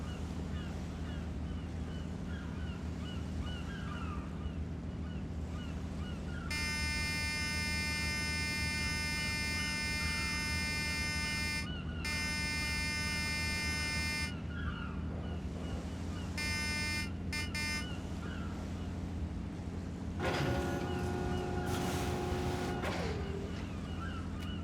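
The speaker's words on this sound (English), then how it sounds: "Ring the buzzer to have them drop the pot." In the Deadliest Catch: Alaskan Storm PC game, a buzzer is rung to order the crew to drop the crab pot. It sounds as several sustained electronic tones with short breaks, over steady wind and sea ambience.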